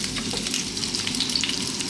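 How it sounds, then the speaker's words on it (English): Cumin seeds and potatoes frying in sunflower oil over medium heat for a potato curry, a close, steady sizzle and crackle with faint stirring, no voices. "We're going to start off by dropping in those cumin seeds, and then we're going to add our potatoes straight away."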